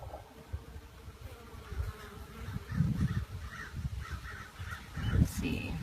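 Honeybees at an open hive hum in a steady, moderate drone, swelling in louder bursts as the frames are handled, with a crow calling now and then in the distance.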